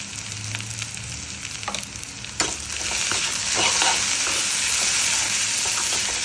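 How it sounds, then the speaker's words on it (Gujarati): Cabbage and potato sabji being stirred in a pan over a lowered flame, a loud continuous sizzle and frying hiss with scraping stir strokes, steadily building after a brief clatter. "પ્રોપર હલાવી દઈશું."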